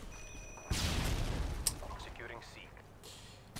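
A thrown grenade explodes in Call of Duty: Modern Warfare 2, a sudden loud close blast followed by decaying rumble and debris, with a voice talking around it.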